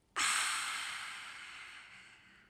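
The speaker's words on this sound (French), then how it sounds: "On inspire par les deux narines. Et expire," Long nasal exhale through both nostrils during a slow breathing exercise, one steady airy rush that starts abruptly and fades gradually over a couple of seconds, close and alone.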